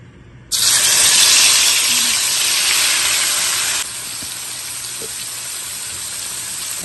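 Fresh tomatoes for tomato thokku land on a hot tawa with a sudden loud hissing sizzle that bursts up, holds for a few seconds, then drops to a steadier, quieter frying hiss.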